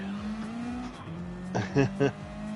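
Sim race cars starting a race: engines drone steadily, then rise with sharp revving bursts as the field pulls away, with commentators talking over it.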